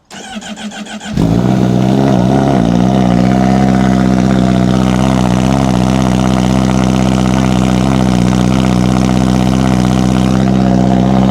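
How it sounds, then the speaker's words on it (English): A Honda CBR1000RR-R Fireblade sport motorcycle engine cold-starts, cranking briefly, catching, and settling into a loud, steady, throaty idle that runs without revving. "cold start on the RR Fireblade"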